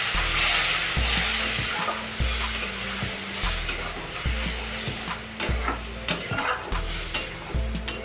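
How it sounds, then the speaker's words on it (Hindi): Ground tomato paste sizzles with masala in a pan while making kaddu kofta, a dense close frying hiss broken by repeated stirring scrapes and an intermittent low mechanical hum. "तो अब हम टमाटर को मसाले के साथ अच्छी तरह से भून लेते हैं।"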